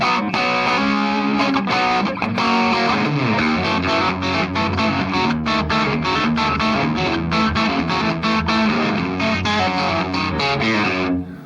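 Electric guitar played through a distortion pedal into a clean amp, a loud, saturated run of chords and picked notes with sustained gritty tone for about eleven seconds, no voices.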